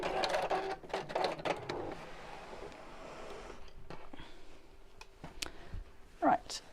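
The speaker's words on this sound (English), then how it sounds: "Oh, I think I'm losing a bit of power on my machine. It's going a bit quick and slow." A sewing machine stitching through fabric and thick wadding runs unevenly, its whirring stitch pulses speeding up and slowing before settling into a lighter hum with scattered clicks, heard close up.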